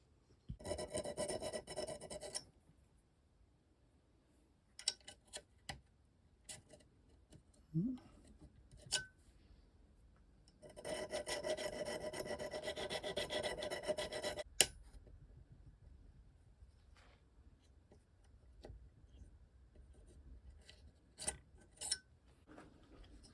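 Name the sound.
flat file removing burrs from airsoft gun part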